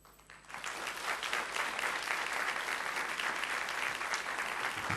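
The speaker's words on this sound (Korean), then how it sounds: "큰 박수로 환영하겠습니다" Sustained applause from a large church congregation, steady and full after a quick start, lasting several seconds.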